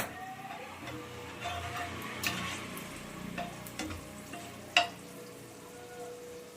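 Whole cloves, small green cardamom and pieces of large black cardamom fry in hot oil in a pan for chicken biryani, giving a steady soft sizzle with scattered sharp ticks and pops, one louder crackle near the end.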